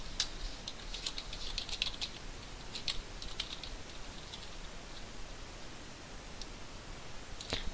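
Soft keyboard typing on a computer while a cover note is entered, quiet irregular clusters of key clicks over a steady faint background hiss, with no talking.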